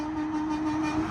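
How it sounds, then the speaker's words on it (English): A semi truck on Interstate 77 blasts its horn in one sustained, steady honk with no break, loud and unbroken, with no voices over it. "Let's see if we can get this semi to honk their horn at us."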